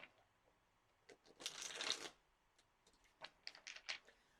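Tarot cards are shuffled on a table during a reading, giving a quiet riffling patter that swells into a dense burst in the middle, followed by several shorter papery flicks and snaps near the end.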